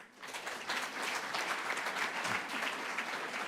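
An audience at a European universities forum applauds colleagues, a steady dense patter of many hands clapping at moderate loudness, sustained without a break and with no voices over it.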